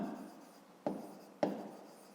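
Pen writing on paper while a maths exercise is worked out, a soft continuous scratching broken by two sharp taps of the pen tip, close and quiet.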